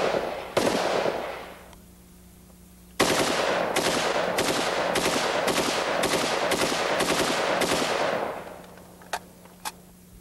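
A Stoner 63 rifle fed 5.56 mm rounds and set for fully automatic fire from an open bolt fires a short burst, then a long rapid string of about a dozen sharp shots, loud and close, followed by two isolated reports.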